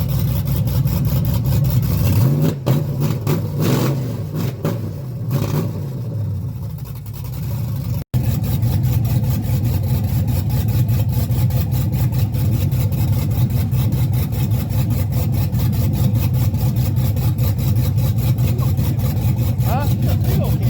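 A Chevy S10 truck with a swapped 6.0 engine and a stall fault runs loud and close, dipping briefly before the throttle is blipped and it settles into a rough, throbbing high idle that holds for the rest of the clip.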